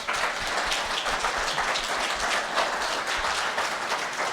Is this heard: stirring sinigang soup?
no